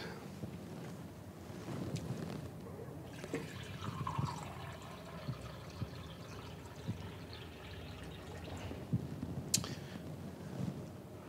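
Water poured to dilute lemon juice for lemonade, a steady continuous gurgling pour lasting several seconds, fairly quiet and close, with no talking.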